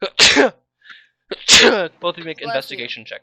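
A single loud, sharp sneeze bursts out close up, then a second one follows, during a tabletop roleplaying game session with people talking around it.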